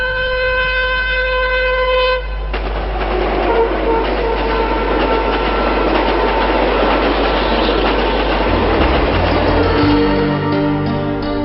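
A Konkan Railway train runs steadily and loudly up close, its broad rumble filling the whole stretch, with a horn-like tonal sound at the start and a shift in pitch near the end.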